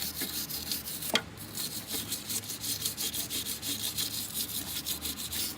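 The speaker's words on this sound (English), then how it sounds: "Scrub the great big chunks off." A brush scrubbing big chunks of dirt and grime off a heavily used Glock pistol, a steady rapid rubbing rasp with one sharp knock early on, close and continuous with no voices.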